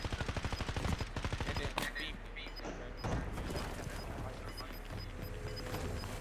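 Rapid bursts of video game gunfire rattle loudly in a fast rhythmic string at the start, followed by scattered shots, crashes and booms over a steady background, with a player's voice talking over the action.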